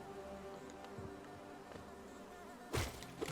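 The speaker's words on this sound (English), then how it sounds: "They're just like real bees. They're just bumbling." Buzzing bees in the Hive area of Hollow Knight, a soft continuous drone of wings close by, swelling into a louder burst near the end.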